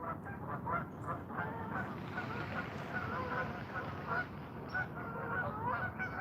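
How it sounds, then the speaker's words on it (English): A flock of geese honks repeatedly as the birds fly away outdoors, a chorus of fairly faint, irregular calls over soft background noise. "As the geese fly away."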